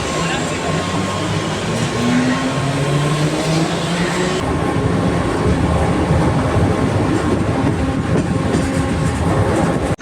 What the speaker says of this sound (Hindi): तो ये जा रही है बेलापुर की लास्ट लोकल।